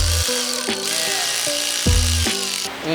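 A power tool whirs in stop-start bursts while fastening a bolt on a car exhaust extractor in a workshop, a loud close whine that rises and drops in pitch over several short pulls.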